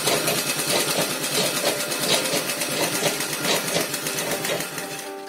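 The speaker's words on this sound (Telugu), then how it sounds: "ఇప్పుడు కుట్టడం స్టార్ట్ చేసుకోండి." A sewing machine runs steadily, stitching a pico edge along a folded cloth hem, with a continuous close whirring and rapid needle clatter and no talking.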